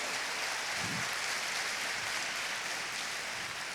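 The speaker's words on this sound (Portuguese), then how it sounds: "aplauso a Jesus." A church congregation applauding, a dense wash of clapping that stays steady and fairly close throughout, with no voices standing out.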